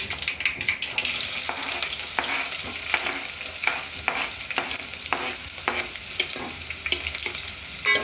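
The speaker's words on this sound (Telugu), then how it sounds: "ఇట్లా చిట్పట్ అనుకుంటే కదా, అప్పుడు కొంచెం కరివేపాకు వేసుకోవాలి" Curry leaves and onion sizzling in hot oil for onion pakodi pulusu, a bright continuous hiss with regular stirring scrapes, close and alone.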